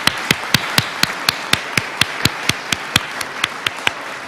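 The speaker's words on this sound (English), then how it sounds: "Please give them a round of applause." A slow, steady clapping for an honor guard at a 225th anniversary ceremony, with sharp, evenly spaced claps about every quarter second that sound like a small group or a single person, with no talk.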